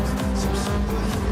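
Race car lapping Interlagos in a racing video game, its engine a steady loud drone with tire noise running through the whole short stretch, no voices over it.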